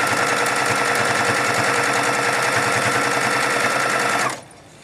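A sewing machine stitching fabric for pajama pants while set on a wobbly TV dinner table, running loud, fast and steady for about four seconds before stopping abruptly.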